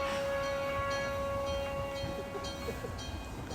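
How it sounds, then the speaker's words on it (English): Station jingle and train sounds at a railway station near Mount Fuji, Japan, a steady hum with sustained tones and faint rail rumble, moderately distant and fairly quiet throughout. "This is probably the most fun jingle I've heard for a train approaching."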